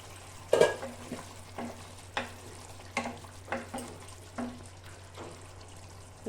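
Pointed gourd cooks in a pan for a potol maharani dish while a utensil stirs and scrapes through it in regular strokes, roughly one every half second, over a faint, steady low hum.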